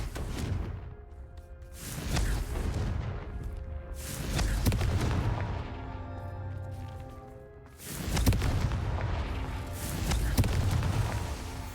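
Explosive spell blasts in the Hogwarts Legacy video game, a few broad booming bursts with whooshing tails, separated by quieter stretches of ambient game sound, no talk.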